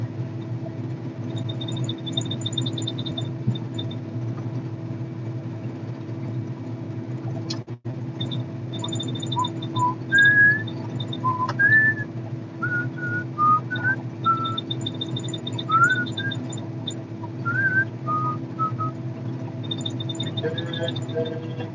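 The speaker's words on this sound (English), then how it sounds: "I tend to whistle quite a lot when I'm on the machine." A person whistles a meandering tune in short phrases over a steady low engine drone from a farm machine windrowing canola, the whistling moderately loud against the machinery hum.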